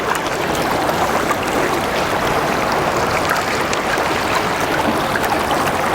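Gravel swirls and sloshes in a gold pan held in stream water, a steady wet rushing and trickling texture that stays even and close throughout.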